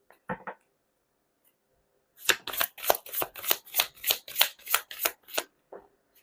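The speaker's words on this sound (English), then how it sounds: "Let's pull up more cards here." Tarot cards shuffled and pulled for a reading: a short riffle, a pause, then about a dozen crisp, evenly spaced card snaps in quick rhythm, close and clear with no talk.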